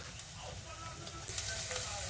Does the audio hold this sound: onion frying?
yes